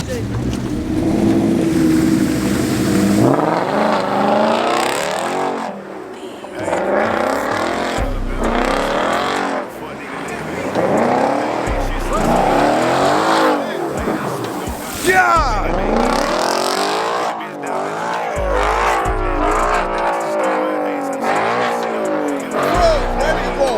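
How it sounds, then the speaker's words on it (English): A big truck's engine revs and surges repeatedly with tire noise as it slides on a snowy Atlanta road, while excited voices shout and talk over it. "Slide that big ass truck."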